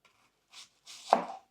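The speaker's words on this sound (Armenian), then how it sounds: "անհրաժեշտ է, պետքա սոխը կտրատենք" An onion sliced into rings with a knife on a cutting board for Armenian khazan khorovats, a few short crisp chops, close and clear, the last cut loudest.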